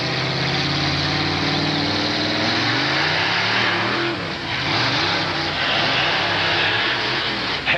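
Monster truck Simply Irresponsible revving hard at an arena show: a loud, rough engine drone that swells and falls in pitch through several throttle blips over a sustained rumble.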